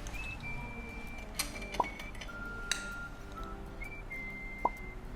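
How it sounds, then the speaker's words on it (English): A spoon stirring sugar into warm tea in a glass for bubble tea, faint intermittent clinks against the glass with a few sharper taps standing out, close and quiet with no talk. "So all you have to do there is to stir."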